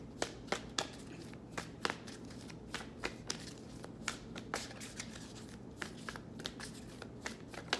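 A Moonology oracle card deck is shuffled by hand, with quick riffling and crisp snapping taps repeating steadily. The shuffling is close and quiet, and no one speaks.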